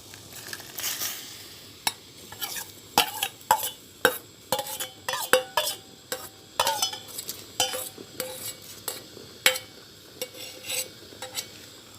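A spoon repeatedly scrapes and knocks against a pot while coconut jelly mixture is stirred on the stove, with irregular clinks and scrapes over a soft bubbling background.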